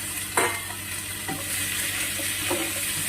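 Tomatoes go into a pan of sizzling onion and ginger, giving a steady frying hiss with a few clattering stirs and drops, close and fairly loud, with no talking.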